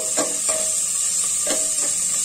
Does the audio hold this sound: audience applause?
no